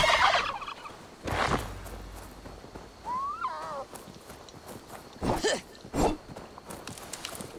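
Turkey in the video game Assassin's Creed Valhalla gives a short warbling gobble in the middle, between footsteps and faint rustling, with no talk.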